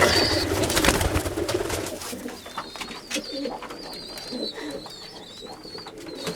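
Pigeons coo in low, soft bursts against a busy, rustling background, with a faint higher chirping line running through the middle.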